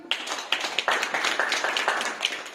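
Applause from an audience, a steady wash of many hands clapping with a few sharper claps standing out, moderately loud with no talking over it.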